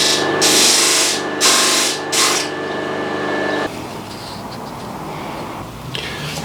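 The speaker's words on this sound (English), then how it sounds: "Just got to trim a bit off, and I'll do that on the disc sander over there." Disc sander trimming a small piece of scrap wood for a Christmas decoration, a loud steady whirring grind with bursts of contact noise for several seconds, then a quieter, rougher rubbing hiss as the work continues.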